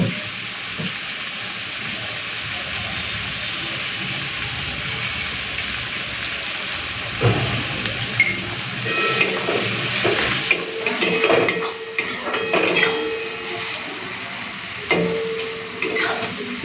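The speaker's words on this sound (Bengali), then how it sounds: "পেঁয়াজটাকে একটুখানি লাল করে ভেজে নিই" Onions frying in oil in a pan with a little salt, a steady crackling sizzle like light rain, growing busier later with stirring clatter and scraping spatula knocks, close by.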